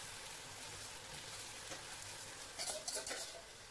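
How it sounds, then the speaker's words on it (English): Banana flower curry stirred in a pot, a soft, faint sizzle with a few clinking scrapes of the spoon near the end. "Put it inside, and then you just have to stir it really well."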